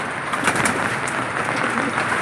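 Pet pigeons at feeding time giving soft, continuous cooing with some fluttering, close by and steady throughout, with no talking over it.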